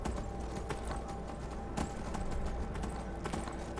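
Galloping hooves from a horse in the video game Skyrim, a rapid rhythmic clip-clop running steadily under ambient game sound.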